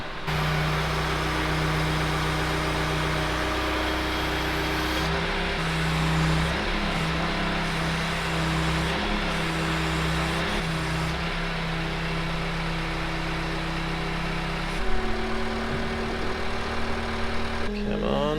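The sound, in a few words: Manitou telehandler engine running while manoeuvring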